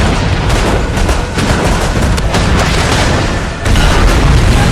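Booming cannon fire and explosions from a war film about a German submarine shooting at the warship Greyhound. The sound is loud and dense, with sustained rumbling blasts and a heavy impact near the end.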